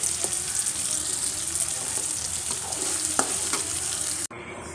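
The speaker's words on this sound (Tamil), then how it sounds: "அரைச்சி வச்ச விழுதை ஃபுல்லாக ஊற்றியாச்சு" Ground masala paste for roadside-style chana sundal sizzles in a pan of frying onions while being stirred, a steady close hiss with a few scraping clinks of the spoon and no talking.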